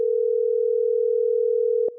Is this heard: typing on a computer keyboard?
no